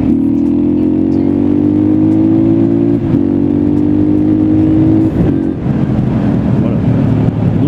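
A KTM 625 motorcycle engine labors at revs in third gear, a loud close drone whose pitch climbs steadily, broken by two shifts and rougher, knocking-like running toward the end.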